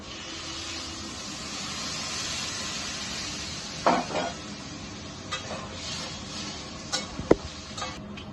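Water poured into a hot pan sizzles and hisses steadily while potato papad curry cooks, with a few sharp clinks of a utensil against the pan near the end.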